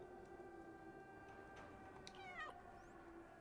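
A high, sliding electronic-sounding meow from the cat in the video game Stray rings out twice in quick succession over a steady humming background with faint ticking.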